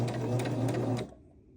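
A sewing machine runs a short seam on quilt squares, a fast rhythmic mechanical whir with regular clicking pulses for about a second before stopping abruptly into quiet.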